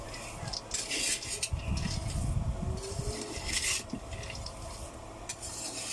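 Cacao beans roasting in a pan in Samar, stirred with repeated rough scraping and rattling strokes that come in bursts over a low background hiss.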